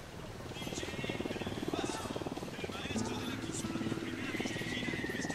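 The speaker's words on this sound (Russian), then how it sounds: "Оля, вот ваш вертолет." A helicopter in the Ghost Recon Wildlands video game thrums steadily with rhythmic rotor pulses beneath game dialogue and background chatter.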